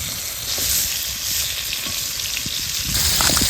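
Ridge gourd pieces frying in oil left from frying eggs, a close, steady crackling sizzle with light stirring scrapes, no talking.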